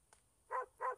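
Two short dog barks in quick succession in a mobile video game, clear and nearby, following a faint brief yip, with quiet surroundings.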